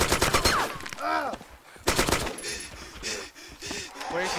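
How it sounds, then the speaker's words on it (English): A shotgun fires at point-blank range in the DayZ mod, a couple of sharp loud blasts mixed with close rapid gunfire and shouting voices over the top. "Fucking blue shotgun, point blank to my head, and missed"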